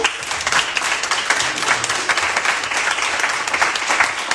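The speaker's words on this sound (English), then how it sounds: "we can just give them another round of applause" Audience applause at a mayoral candidate forum in Jersey City, a dense, continuous patter of many hands clapping, close and fairly loud throughout with no talk.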